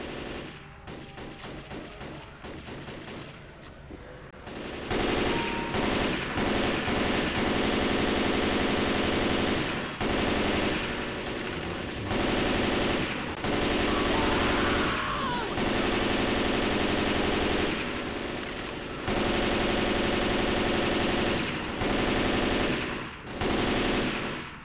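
Sustained rifle fire from a first-person shooter game rattles almost continuously in rapid automatic bursts, loud and dense, after a quieter opening with scattered shots; a faint voice talks briefly underneath.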